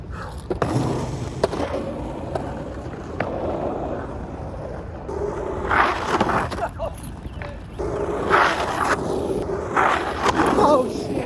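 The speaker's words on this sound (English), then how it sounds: "I just kind of wanted to see what these wheels felt like on this rougher ground" Skateboard fitted with Bones Formula wheels rolling over rough ground, a steady gritty rumble running throughout with louder bursts of rolling noise later on, close to the microphone.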